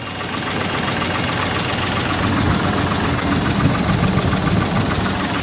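A 4.7L engine runs with a persistent knock, making a loud, continuous mechanical clatter with rapid rhythmic tapping over a rough idle, close to the microphone with no talking.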